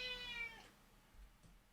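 A cat gives one clear, close meow that lasts about half a second and then fades. Quiet room tone follows, with a faint soft sound near the end.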